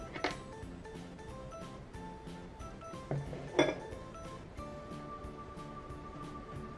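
Sugar and other ingredients mixed in a bowl, with repeated light clinks and scrapes of a utensil against the bowl in an even rhythm, plus a couple of sharper knocks, fairly quiet and close.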